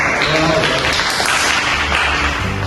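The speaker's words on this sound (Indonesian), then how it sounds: "Tepuk tangan untuk kelompok 2." A classroom of students claps for a student group after its presentation, a dense, loud burst of applause that holds steady for a few seconds.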